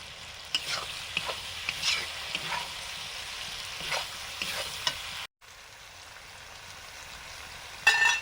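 Chicken pieces for chicken Manchurian frying in hot oil with a steady close crackling sizzle and occasional stirring scrapes; a brief dropout near the middle, then sizzling resumes, louder at the end.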